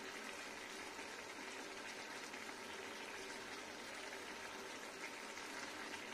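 Ridge gourd and potato poppy seed curry bubbling in a pot, a steady, quiet simmering hiss with soft gurgles throughout and no talking.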